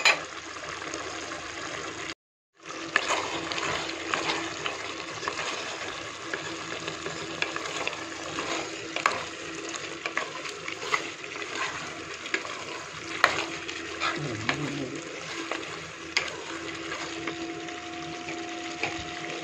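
Chilli, coriander and turmeric powders being stirred into a chicken kurma frying in a pan, a steady sizzle with scraping stirs running almost throughout after a brief pause near the start, moderately loud and close.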